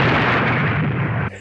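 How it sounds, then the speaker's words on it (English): A car crash explosion in the 1985 action film American Ninja, a loud, sustained roaring blast that rumbles heavily before cutting off abruptly. "That was the slowest car crash explosion I've ever seen."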